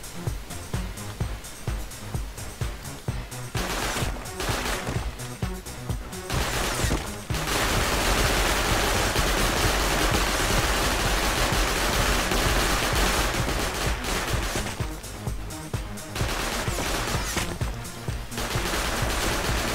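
Video game gunfire in Rust during a castle raid: dense, sustained bursts of automatic fire and shots fill the stretch, loud and continuous with brief lulls, no talking.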